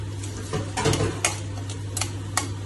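Ground masala paste is sautéed in a pan, with a frying sizzle under repeated scraping and clinking strokes from a spoon against the metal, close and fairly busy.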